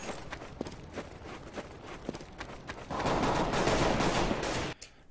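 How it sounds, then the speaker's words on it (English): Footsteps and gunfire in Counter-Strike on the Dust 2 map give way to a flashbang going off, a loud, steady wash of hiss that fills about two seconds before cutting out abruptly. "Throwing a flashbang."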